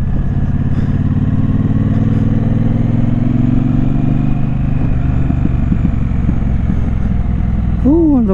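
A motorcycle engine burbles with a steady, close, low rumble and a faint clatter throughout, and a voice is heard briefly near the end.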